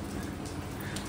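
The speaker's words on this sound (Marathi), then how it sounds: "आज टेरेसवर बघा पाऊस पडतोय" Rain pours steadily onto a terrace in Manali, a dense, even patter that fills the whole moment with no other sound.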